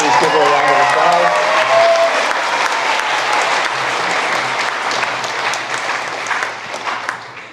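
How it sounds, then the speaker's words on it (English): Graduation-ceremony applause for a vocational nursing valedictorian: a large crowd claps loudly and continuously, a voice briefly audible at the start, and the clapping slowly thins toward the end. "Please give her a round of applause"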